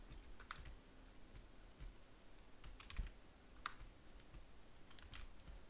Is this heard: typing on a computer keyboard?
yes